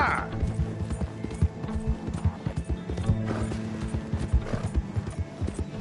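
Galloping horse in Red Dead Redemption 2, rapid rhythmic hoofbeats running continuously up close, mixed with game sounds, while a voice talks over the gallop.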